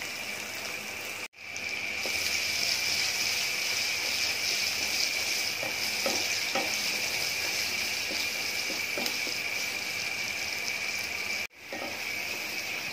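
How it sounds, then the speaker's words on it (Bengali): Chopped onion and cumin seeds sizzle in hot oil in a pan, a steady, loud frying hiss that runs almost unbroken, with brief dips and faint stirring clicks, no talk over it. "তেলটা গরম হয়ে গেছে, এখন জিরা দিয়ে দিচ্ছি। এখন দিয়ে দিচ্ছি পেঁয়াজ কুচি করাটা।"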